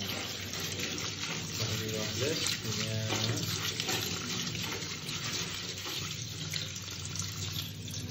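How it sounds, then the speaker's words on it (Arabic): Tap water runs steadily over rice being rinsed in a kitchen sink, a continuous close splashing wash for the whole stretch with faint background hum. "ولكن قبل قوم بالغسل ديال الروز ديالكم"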